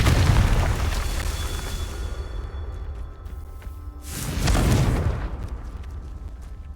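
The Confringo blasting spell in Hogwarts Legacy detonates as a loud, deep booming explosion with a rushing burst, then a second heavy blast swells a few seconds later.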